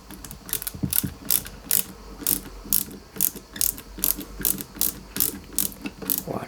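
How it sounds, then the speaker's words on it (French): An AP screw is driven into a 1/8-scale Nissan Skyline GT-R model with a ratcheting screwdriver, giving rapid rhythmic clicking bursts in repeated strokes, close and clear, with no voices. "On prend la vis AP. On fixe ici d'abord"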